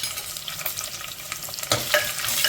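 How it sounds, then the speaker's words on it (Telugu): Onion, garlic and dried red chillies tempering in oil in a clay pot, a steady close sizzle with scattered crackles and stirring scrapes, growing slightly louder toward the end. "ఇప్పుడు ఈ పోపును బాగా ఫ్రై చేసేసుకోవాలండి"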